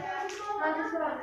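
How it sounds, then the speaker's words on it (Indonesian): Students in an Indonesian classroom clap for a classmate during a teaching practice lesson: a short, steady patter of hands, fairly close, with children's voices mixed in. "Tepuk tangan untuk Putri."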